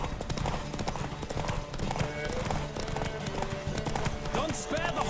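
A horse galloping in a race in The Witcher 3, rapid rhythmic hoofbeats pounding steadily close by, with a brief whinny and a game character's voice speaking over it.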